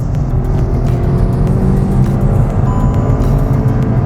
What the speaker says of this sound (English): if I downshift right now into second gear, you can hear how thrashy it gets.